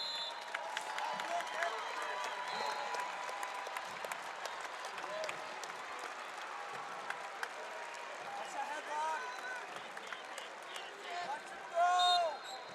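Crowd at the 2023 Iowa 2A state wrestling finals applauding and rising to its feet, a steady dense wash of clapping and cheering throughout, swelling louder near the end, with an announcer talking over it.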